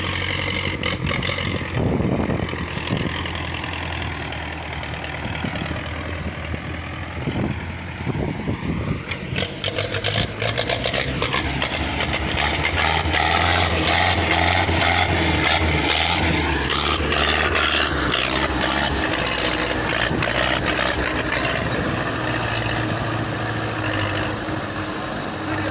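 Tractor engine straining as it pulls a loaded trolley uphill, a continuous loud rumble that rises in effort partway through, with faint voices in the background.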